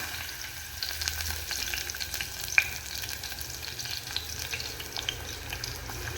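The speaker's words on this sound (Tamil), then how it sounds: "இப்போ வந்து பூண்டு போட்டுக்கலாம்." Garlic fries in hot oil for a little millet rice and thick dal dish, producing a continuous soft sizzle with stirring scrapes and a few sharp pops.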